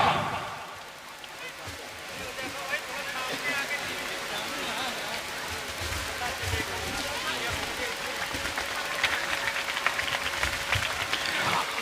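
A mushaira audience at a poetry gathering claps to welcome a poet. The dense, rain-like patter of applause runs steadily throughout, with a voice speaking over it and a faint steady tone in the background.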